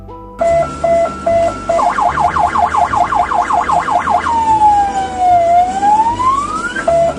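A loud electronic ambulance siren cycles through beeping tones, a rapid warble and a slow rising wail, close by with no talking.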